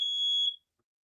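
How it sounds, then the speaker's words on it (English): A smoke alarm gives one loud, shrill electronic beep lasting about half a second, then cuts off into silence. "That's Trips has got a fire alarm."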